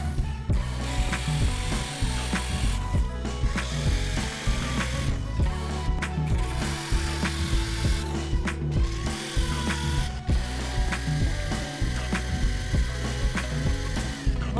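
A power drill runs in long loud bursts with brief pauses between, grinding and rattling as it bores through wall insulation boards at their joints; no talking.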